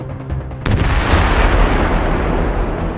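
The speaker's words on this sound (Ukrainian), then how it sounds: "закладають вибухівку, і за кілька хвилин ціль знищена" A single heavy demolition charge blast erupts abruptly during military volunteer training, after a moment of low rumble, followed by a long, loud rolling boom that slowly fades.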